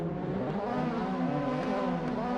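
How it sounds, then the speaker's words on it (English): Toyota 86 race cars on the Oran Park grid in a sim racing game hold a steady, dense chorus of revving engines close together, droning without a break. "guys start revving up."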